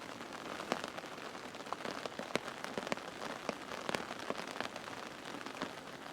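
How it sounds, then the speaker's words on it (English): Steady rain patters on a Zempire Pronto 4 tent, with scattered sharper drops tapping the fabric over a constant soft hiss and no voices. "With all this rain and the wind out there"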